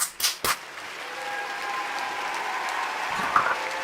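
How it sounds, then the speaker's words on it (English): A few sharp, isolated claps open the moment, then a room of listeners settles into steady, moderate applause that carries on evenly to the end. "Round of applause for Notsew."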